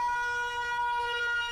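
An air raid siren holds a steady, droning tone with layered harmonics, sustained at moderate loudness over a faint rumbling background.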